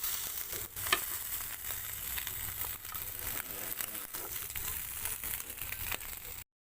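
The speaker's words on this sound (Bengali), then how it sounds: "এগুলো এখন আমি একটা পেঁয়াজে ভেজে নিচ্ছি" Puti fish fry in oil with onion, giving a continuous close crackling sizzle with light spatters and occasional stirring clicks, steady throughout with no voices.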